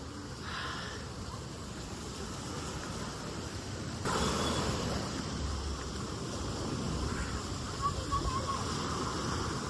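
Sea waves wash onto a beach shore in a steady, broad roar mixed with wind buffeting the microphone, the surge swelling midway, while people talk nearby.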